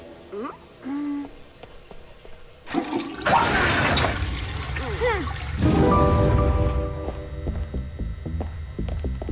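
A toilet flush in an animated show: a loud roaring surge of water rises and swirls for a few seconds, surrounded by cartoon sound effects and tones, with voices talking nearby.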